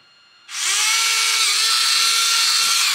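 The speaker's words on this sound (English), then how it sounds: "Nothing we love more than drilling holes in expensive model kits." After a brief quiet moment, a small drill spins up sharply and whines steadily at close range, a loud continuous high buzz, drilling into a plastic model kit.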